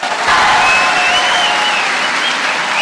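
An audience at a political speech breaks into loud, sustained applause, dense clapping mixed with a few crowd shouts that holds steady throughout.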